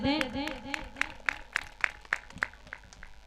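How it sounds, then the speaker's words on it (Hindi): Audience at an all-India mushaira poetry gathering claps in a sharp, regular rhythm, about a dozen evenly spaced claps, just after a voice speaks at the start. "एक मरतबा जोरदार तालियां बजाकर मुझे इजाजत दे दें"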